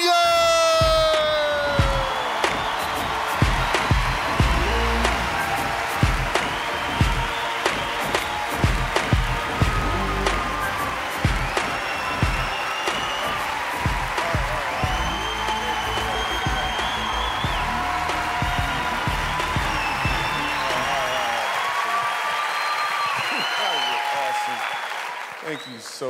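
At a standup comedy show, an audience applauds loudly and steadily for over twenty seconds, with whoops and shouts mixed in, before the clapping tapers off near the end.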